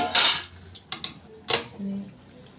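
A hot pot lid is gripped with tongs and lifted off, giving a few sharp close metallic clinks and scrapes followed by a brief low hum.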